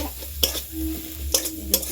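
Taro stolons (kochur loti) sautéed in spiced masala in a pan, sizzling steadily while a spatula scrapes and clacks against the pan three times, close and fairly loud, with no speech.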